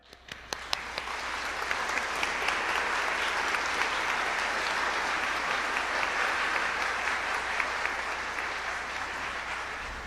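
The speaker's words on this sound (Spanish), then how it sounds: "Damos aplausos para la gran maestra" Sustained applause from a large audience at a religious gathering in Costa Rica honouring a great teacher, dense and steady for the full ten seconds with no talking over it.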